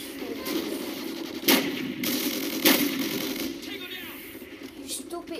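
Gunfire in the video game Call of Duty Ghosts, a few sharp shots over a constant game noise bed, with a voice talking throughout.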